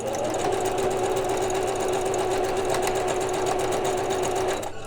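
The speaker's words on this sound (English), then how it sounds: "I'm going to sew all the way around it just to make it a little bit thicker" Close and loud, a sewing machine stitches continuously around a fabric edge, a steady rhythmic hum that stops abruptly just before the end.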